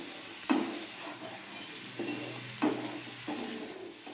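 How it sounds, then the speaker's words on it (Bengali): Ground spice paste fries in oil for palak paneer, a soft sizzle under a few distinct stirring scrapes and spoon knocks spaced across the few seconds. "যে মশলাটা বেটে রেখে দিয়েছিলাম দিয়ে দেবো তেলের মধ্যে। ভালো করে কষিয়ে নেব।"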